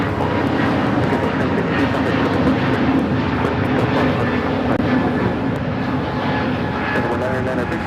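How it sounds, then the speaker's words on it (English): A Frontier Airbus A320neo in Tanager livery takes off from LAX bound for Phoenix, its engines producing a loud, steady roar that fills the whole stretch, with voices talking faintly underneath. "Scarlett, the Tanager livery taking off to Phoenix, Frontier 1062. It's an A320neo."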